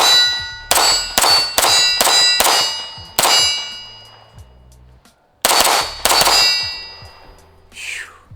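Spring-powered airsoft gun, a Monsoon Tactical Genghis Komp C2X, fires at a metal target, giving about eight sharp ringing clangs: a quick run of six, a pause, then two more, each decaying briefly.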